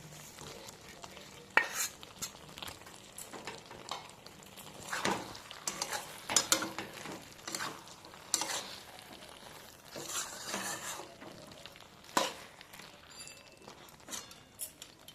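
Fried prawns are stirred into cooking taro stolons in a pan, quiet scraping and shuffling of the spoon with a faint sizzle and occasional metallic clinks.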